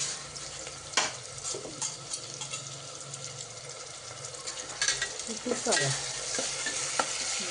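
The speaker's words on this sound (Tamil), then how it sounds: "இப்போ வெங்காயம் போட்டுக்கலாம். நல்லா எண்ணெய் காஞ்சிடுச்சு." Steady loud sizzling of onions frying in hot oil, with occasional stirring scrapes and clatter close by, continuous throughout.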